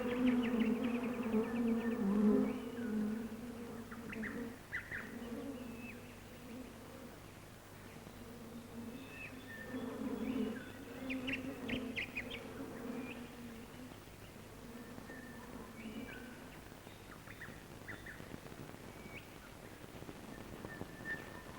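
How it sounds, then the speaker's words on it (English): Insects buzzing near the forest floor, soft droning hums from several flying insects that rise and fade as they pass, quiet and continuous with faint background ambience. "Insects, too, may be abundant near the ground."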